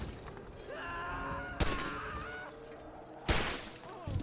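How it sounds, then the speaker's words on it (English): Car window glass shattering under gunfire in GTA Online, two sharp bursts of breaking glass with tinkling debris over a steady engine-like hum and background game noise. "if you shoot where they used to be, not only can you see the glass breaking,"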